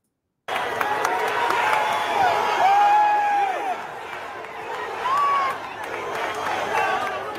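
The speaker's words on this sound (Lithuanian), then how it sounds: "Žmonės skanduoja USA" A large crowd at a Donald Trump rally chanting and shouting together, a broad roaring mass of voices that swells, dips and rises again, with a few individual voices standing out above it.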